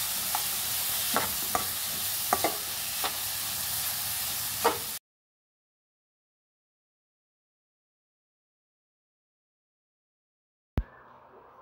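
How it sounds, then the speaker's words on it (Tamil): Onions and tomatoes sizzle steadily in a pan for an anchovy gravy, with sharp taps and scrapes from stirring over the hiss. The frying cuts off abruptly, leaving silence before a brief burst returns at the end. "இதையும் சேர்த்து நல்லா வதக்கி விட்டுக்கலாம்."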